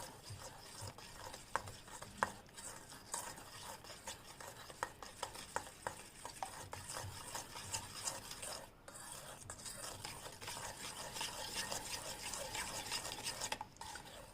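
Powdered sugar being stirred into yogurt and oil for a glass-baked cake batter, a quiet scraping and tapping of a spoon against the bowl in an irregular rhythm, faint and close, with no voices.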